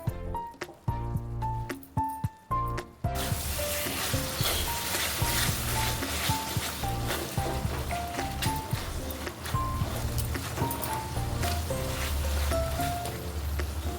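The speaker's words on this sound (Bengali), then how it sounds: "দিয়ে এবার ভালো করে মশলাটা কষিয়ে নেব।" Spice masala frying and being stirred in a pan with a little added water while making a steamed egg bhujia dish, a steady loud sizzle with scraping stirs, preceded briefly by music.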